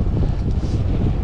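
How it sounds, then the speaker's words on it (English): A strong headwind while cycling roars across the microphone as continuous loud, buffeting rumble with no other sounds. "Headwind is brutal out there."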